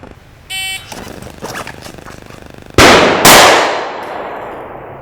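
A shot timer beeps, then a handgun is drawn from a purse holster with a short rustle and fired twice, two sharp, loud gunshots close together ringing out into a decaying room echo, with no talking.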